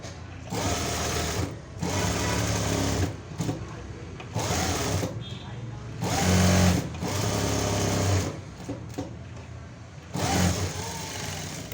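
An electric sewing machine stitches lining and main fabric for a lehenga princess-cut blouse, whirring in bursts of a few seconds separated by short pauses, close and loud.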